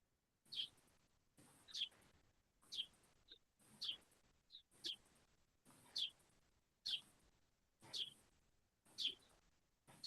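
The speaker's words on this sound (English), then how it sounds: "I can hear some birds chirping" Small birds chirp faintly outdoors in a steady series of about ten short, high calls spaced roughly a second apart, with a quiet background and no other sounds.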